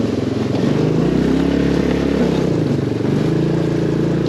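A HammerHead 250cc go-kart engine drives around a small backyard track, a loud close buzzing drone whose pitch rises and falls as the kart speeds up and slows, with faint talk underneath.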